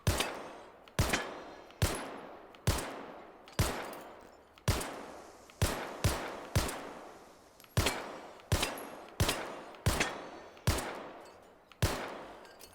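Pistol shots fired at targets in the video game Hot Dogs Horseshoes & Hand Grenades: about fifteen sharp, loud cracks at uneven intervals, some in quick pairs, each with a short decaying tail, no talk.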